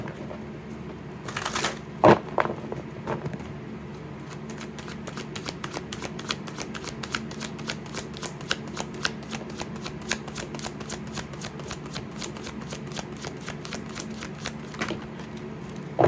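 Tarot cards being shuffled up close, starting with a quick riffle and then a long run of rapid, crisp card-on-card flicks in a steady rhythm.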